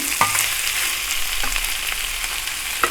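Chicken and prawns are tossed in a frying pan for restaurant-style chicken fried rice, with a steady sizzle broken by a few sharp metal scrapes of a spatula, close and without talk.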